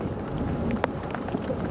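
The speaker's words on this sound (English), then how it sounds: "The rain is getting heavier where we are" Steady rain falls during a thunderstorm on a sunset safari drive, a dense, even wash of noise with a few faint drips and taps on nearby surfaces.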